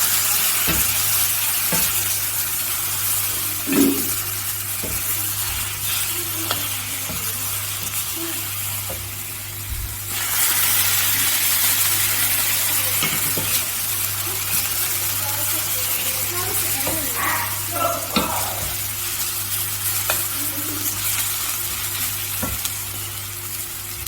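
Spice paste of turmeric, cumin, coriander and chili powder fries and sizzles as hot water is added to the pan for a lamb dish, with ongoing stirring and a brief louder hiss midway; a voice speaks at points.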